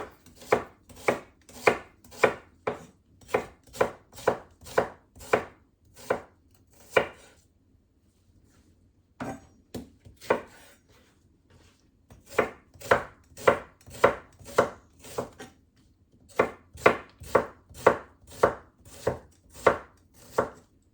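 Vegetables being sliced into large pieces for ratatouille on a cutting board: a knife strikes in steady, evenly spaced chops, close and crisp, pausing for a couple of seconds midway before resuming at the same even rhythm.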